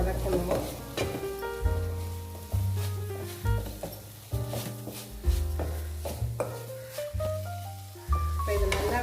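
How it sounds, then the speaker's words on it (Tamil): Spices with turmeric and chilli powder sauté in oil for bread chilli, a soft sizzle with stirring scrapes running beneath louder background music that plays throughout. "இப்போ கொஞ்சமாக மஞ்சத்தூள், மிளகாத்தூள் சேர்த்து இதை நான் வதக்கிக்கிறேன்"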